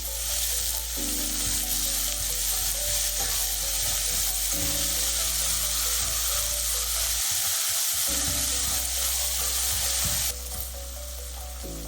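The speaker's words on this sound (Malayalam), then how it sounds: "കറിക്ക് ആവശ്യമുള്ള ഉപ്പ് ചേർത്ത് ചെറിയ ഉള്ളി നന്നായി വഴറ്റിയെടുക്കണം" Small onions sautéing with salt in a pan for a Kerala-style crab curry, a steady loud sizzle that runs throughout with occasional stirring scrapes, no voices.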